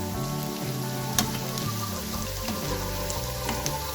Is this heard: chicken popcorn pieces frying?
yes